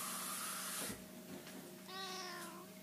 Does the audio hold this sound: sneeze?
no